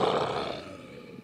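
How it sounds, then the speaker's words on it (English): Panther roar sound effect played back from an interactive touch surface, a single loud rough growl that swells at once and trails off over about a second. "panther."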